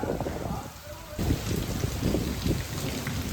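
Heavy rain pours down during a windy storm, a dense, steady roar of falling water with gusts buffeting the microphone throughout, briefly easing before surging again.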